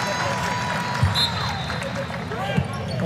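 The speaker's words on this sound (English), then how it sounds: "KK Timpson going to get a nice round of applause here from the hometown crowd" A home crowd at a women's college basketball game, Miami versus Florida State, applauds steadily while a ball bounces on the court and a commentator talks over the noise.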